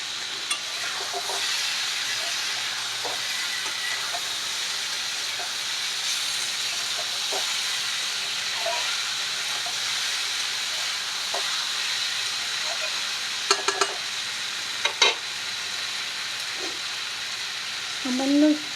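Small boirali fish fry in a hot pan in a home kitchen with a continuous close sizzling hiss, broken by a few sharp pops and clinks near the end.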